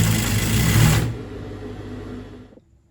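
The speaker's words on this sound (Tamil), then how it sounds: "ஸோ இப்போ இந்த மாதிரி மேலேருந்து கீழே வரைக்கும் இதில் ஒரு ஸ்டிச் போட்டோன்னா நம்மளுக்கு ரெடி ஆகும்" Sewing machine running a steady seam along invisible piping, loud and continuous for about a second, then fading to a softer whir before stopping.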